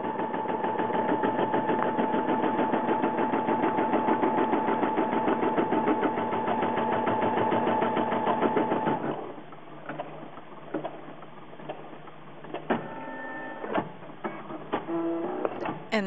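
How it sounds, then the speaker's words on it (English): A Brother home embroidery machine stitches an applique border on a Frozen Christmas stocking, giving a steady, rapid mechanical chatter for about nine seconds before it stops; quieter clicks and short electronic beeps follow. "And now we are beginning to stitch the border for the applique, and it's just going to go all the way around our Elsa"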